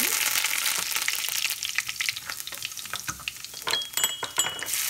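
Mustard seeds, fenugreek seeds and curry leaves crackle and sizzle hard in hot oil in a clay pot for fish curry, a loud, close hiss with popping bursts and a few stirring scrapes.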